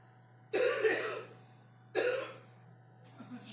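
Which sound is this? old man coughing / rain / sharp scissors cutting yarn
old man coughing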